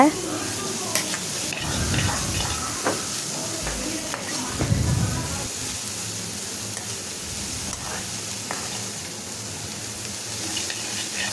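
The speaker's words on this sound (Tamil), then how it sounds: "இப்போ அந்த வெண்டைக்காய் கூடையே சேர்த்திட்டு நல்லா மிக்ஸ் பண்ணி விட்டுருங்க" Okra and sliced onion stir-fried together in a pan as a Tamil-style vendakkai fry, a continuous moderate sizzle with intermittent scraping stirs, and a voice speaks over it.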